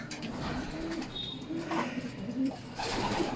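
Soft, repeated cooing from a returning banded racing pigeon in low murmuring phrases, fairly close, continuing over a steady outdoor background.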